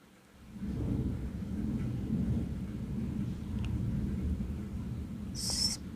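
Heavy rain pours down with a low, continuous rumble like distant thunder, building within the first second and holding steady, with a brief higher sound near the end.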